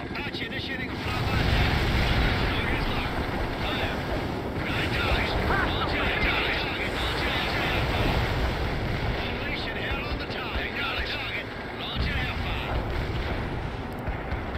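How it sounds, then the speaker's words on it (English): An Apache helicopter roars past in World In Conflict, a loud sustained rumble with wind-like rush and distant gunfire or artillery thuds mixed in, steady over many seconds. "Apache initiating a flyby."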